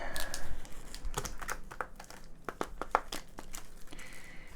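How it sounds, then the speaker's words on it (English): Magic: The Gathering cards being shuffled by hand at a league match, a run of quick papery riffles and snaps close by, with no talk over them. "It's a decent enough shuffle that at least we're mixing stuff up."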